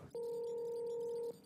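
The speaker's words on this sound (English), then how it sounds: "Ooh, sorry, getting a phone call" A single sustained electronic phone ring tone, a clean steady pitch that starts abruptly and cuts off after about a second, heard alone and close.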